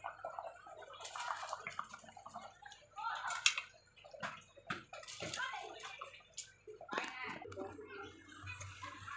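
Washed rice is tipped into a pot of boiling water for chicken biryani, making splashy pouring and bubbling sounds with sloshing and dripping, close by but soft.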